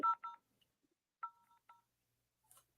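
Telephone keypad dialing tones sound while a number is called: a few quick beeps, a pause, then more single tones, clear and isolated against silence.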